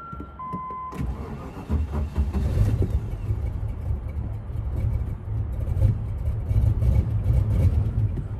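A Land Rover Discovery engine cranks and catches after a couple of warning chimes, then runs with a steady, slightly rough idle close by.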